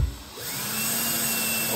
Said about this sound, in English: with a drill, whatever is more convenient for you.